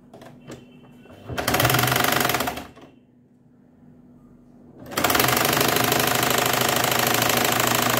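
A sewing machine stitches a sailor collar in two runs: a brief burst of about one and a half seconds, a pause with faint handling, then a steady, loud whir that continues to the end.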